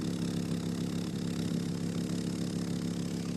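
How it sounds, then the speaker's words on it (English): A 1991 Audi 90 quattro 20V idles with a steady, low engine note and a continuous rumbling exhaust drone, even and unbroken throughout, fairly close with no voices. "if any of you want an exhaust noise, here's a little bit of a taste of that."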